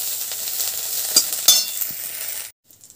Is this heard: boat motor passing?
no